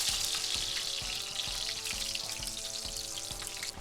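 Bean patties with jalapenos and onion frying in a pan give a dense, steady sizzle with crackling and regular soft thumps, close and alone.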